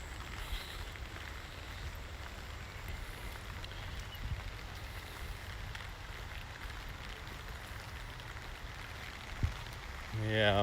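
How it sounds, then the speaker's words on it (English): Steady rain falls outdoors on a rainy day in Japan, a soft continuous patter heard at a distance with gentle wind, fairly faint, with a brief knock near the end. "this weather is just rainy"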